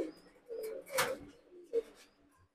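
A pair of adult Pakistani Teddy pigeons cooing softly nearby, with a few low, rolling coos spaced apart over a quiet background and one louder flutter-like burst in the middle.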